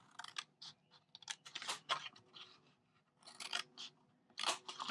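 Scissors snip paper squares for a Stampin' Up cube box, a close series of crisp, uneven cuts and rustles with short pauses between them and no talking.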